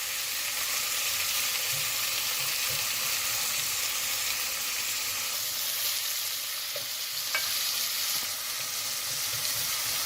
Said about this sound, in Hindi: ये देखिए हमारी प्याज पक रही है इसके अंदर